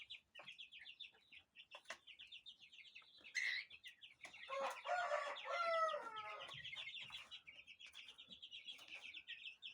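Chickens cluck and chirp steadily, with a louder burst of mixed calls in the middle and a quieter continuous flock chatter around it, no talk.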